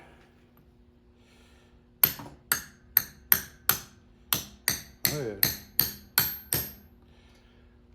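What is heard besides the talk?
hammering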